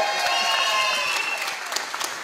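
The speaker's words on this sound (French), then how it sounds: "si on peut les applaudir, s'il vous plaît, encore" Audience at a show applauding, a steady wash of dense clapping from a crowd that holds and tapers slightly over a couple of seconds, with no talking.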